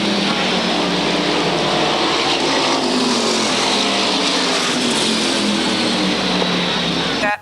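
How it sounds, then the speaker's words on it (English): SK modified race cars circling Waterford Speedbowl on the final lap of a 40-lap feature, a loud continuous engine roar with overlapping cars, while an announcer talks over the public address. "Your leader working his way through the turns for the final time as Phil Rondeau picks up the win."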